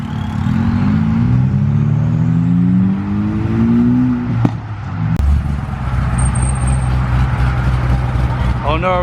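Ford Focus ST cars rev hard and accelerate away from a Twin Peaks car show, loud and close with a rising engine drone and a sharp burst midway, with crowd chatter around them.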